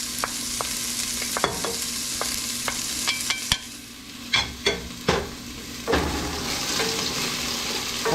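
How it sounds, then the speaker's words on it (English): Onions sizzle steadily in hot oil in a pan while a utensil stirs them, with intermittent scraping knocks and clacks against the pan over a constant frying hiss. "Then I add in the onions."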